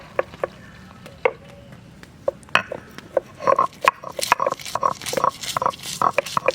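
Garlic is ground on a stone grinding slab, making irregular knocks and scraping taps that start sparse and grow denser and louder, close by with faint background noise.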